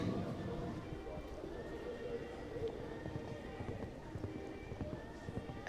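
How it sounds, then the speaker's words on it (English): Horse noises at an outdoor stud show featuring a 7-year-old mare: a neigh and hoof clip-clop amid steady crowd and arena bustle, with faint talk in the background throughout. "Callahoo Corrida Durabel, 7-year-old mare by Corinth out of a Lisbon dam line"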